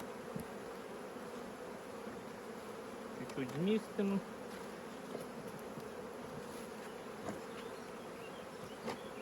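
Honey bees buzzing steadily around an open hive while a beekeeper adds foundation frames before the acacia flow, a dense close drone with a brief spoken remark partway through.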